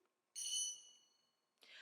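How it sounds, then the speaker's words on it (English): A timekeeper's bell strikes once at a debate, ringing out bright and clear and decaying slowly over about a second, followed by the start of another sharp sound. "Our timekeeper will ring the bell once to indicate that you have 1 minute left to conclude."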